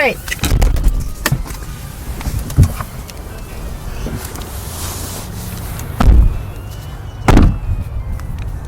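A car being locked outdoors on a crisp autumn day, with a few sharp clunks and a brief chirp-like beep spaced apart over steady background noise, fairly close and loud.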